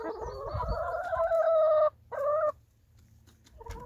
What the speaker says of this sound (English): He's a funny chicken,